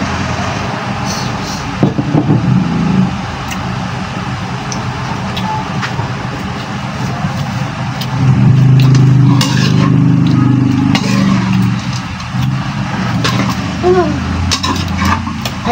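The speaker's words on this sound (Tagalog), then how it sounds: "Ang loud ng truck na yan." A loud truck rumbles past outside a house in a low, swelling engine drone that peaks midway and then fades, under occasional distant voices.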